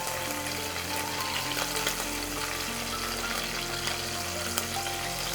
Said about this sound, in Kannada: ಒಂದು 15 ಸೆಕೆಂಡು ಈ ರೀತಿ ಫ್ರೈ ಮಾಡ್ಕೊಂಡ್ಬಿಟ್ರೆ ಸಾಕು.